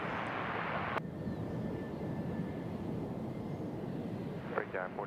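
An airliner takes off at Nashville International Airport, a steady broad roar of jet engines throughout, with a faint voice briefly heard near the end.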